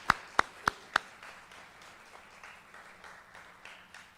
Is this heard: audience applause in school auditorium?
yes